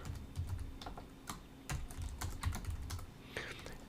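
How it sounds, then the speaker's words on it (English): A computer keyboard clacks in quick irregular bursts of keystrokes, near and fairly quiet, with soft thuds between the taps. "Stupid keyboard."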